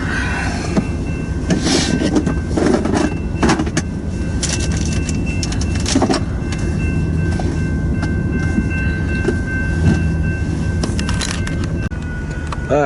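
A manifest freight train backs up slowly along a snowy main line in freezing weather, a steady rumble of railcars with scattered clanks, wheel squeals and couplers knocking, heard fairly close and continuous throughout.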